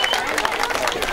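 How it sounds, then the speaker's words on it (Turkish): Guests clap for the bride and groom at a village wedding in Damlalı, Tufanbeyli, Adana. The applause is loud and dense, with a crowd around it and a voice talking over the clapping throughout. "alkışlıyoruz şimdi, alkışlıyoruz çiftlerimizi"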